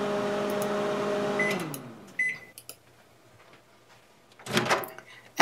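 A microwave oven hums steadily while heating a shampoo bar to melt it, then winds down, followed by a beep, a few clicks of the door and a louder clunk near the end.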